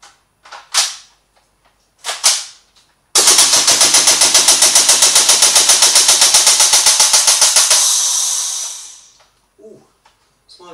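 A WE L85 airsoft rifle fires a loud, sustained full-auto burst of rapid, evenly spaced shots lasting several seconds, preceded by a couple of single shots and followed by a fading tail and small handling noises.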